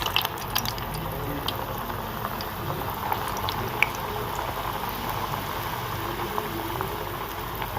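Chicken and potato rolls frying in oil, a soft bubbling crackle with scattered small pops and faint clicks, steady and close but fairly quiet, with no speech.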